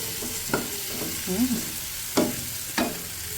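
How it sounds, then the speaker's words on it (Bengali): Steady sizzling of cauliflower frying in a pan with little oil, with a few stirring scrapes and clinks of a spatula, close by and moderately loud. "ফুলকপি আলু দিয়ে করবো মাছ ভাজা হয়ে গেছে ভাজা ভাজা হোক ফুলকপিটা"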